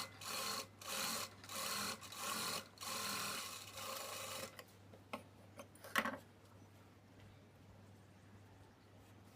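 A sewing machine stitches the lining of a child's work blouse in several short, rhythmic bursts of quiet mechanical clatter, then falls still with only faint handling sounds.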